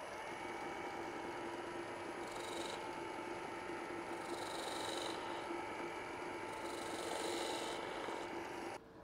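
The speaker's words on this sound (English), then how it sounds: "I'm also going to take just a slight chamfer right here at the edge." A wood lathe spins steadily while turning a hollow form and cutting a slight chamfer at the edge, with a continuous mechanical hum and whirr plus soft recurring scraping swells from the tool, quiet and even, with no talking.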